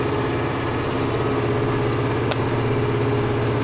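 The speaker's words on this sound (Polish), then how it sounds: "A przede wszystkim ciągnik się męczy przy podnoszeniu go." Zetor Proxima 85 tractor engine straining as it lifts a Staltech plough, a steady, loud, low-pitched droning rumble with no pauses; no talking.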